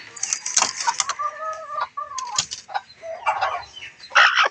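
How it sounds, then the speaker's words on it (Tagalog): A hen clucks and squawks nearby while being shifted from one coop to another, giving a few sharp calls, some wing flapping and scuffling, with rustling handling noises between the bursts. "Karin hinangkan, diri na po nato ni ibutang sa isa pa nato na kulungan."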